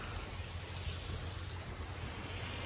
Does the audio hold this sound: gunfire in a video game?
no